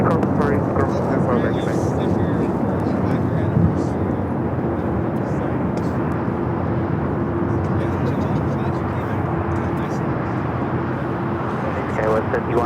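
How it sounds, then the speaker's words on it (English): A United Express SkyWest CRJ regional jet takes off at Los Angeles International Airport, its steady engine roar continuous and fairly near, with talk running over it throughout. "CRJ, United Express, SkyWest taking off."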